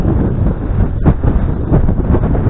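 Strong stormy wind at a campsite tent on the Amur river roars steadily and buffets the microphone as a loud, continuous low rumble with gusty surges and no voices.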